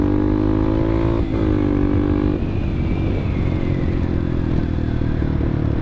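A CSC TT250 dual sport motorcycle being ridden, its engine droning steadily with pitch shifting as the rider changes speed, alongside rattling and wind noise throughout.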